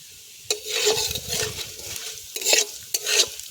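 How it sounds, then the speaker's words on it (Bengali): Maggi instant noodles sizzle and crackle loudly in hot oil, with repeated scraping stir strokes from a utensil in the pan, close up and continuous. "এবারে দিয়ে দেবো ম্যাগিগুলোকে তেলে"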